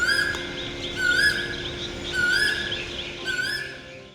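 Birds sing in a Mumbai home garden, repeated whistled chirping phrases returning about every second against a quiet background, moderately close.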